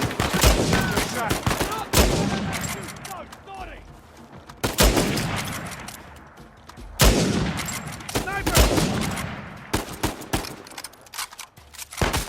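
Bursts of rapid gunfire in a gun fight in Uncharted 4, loud, close volleys repeating every few seconds with booming reports and fading echoes between them, with occasional voices underneath.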